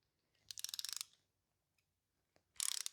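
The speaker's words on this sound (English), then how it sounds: "now it works like a regular ratcheting screwdriver" A ratcheting screwdriver gives two quick bursts of dense, crisp mechanical clicks, close and clear against near silence, with a couple of faint isolated ticks between them.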